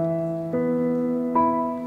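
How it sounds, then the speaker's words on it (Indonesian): A piano sounds three sustained notes in slow succession, each struck cleanly and ringing on, clear and unaccompanied. "Iya, itu piano ternyata."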